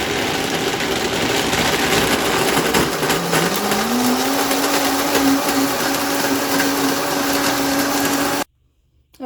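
Vitamix blender running at high speed while blending almond milk, a loud steady whirring roar whose motor pitch climbs and then holds before cutting off abruptly into silence.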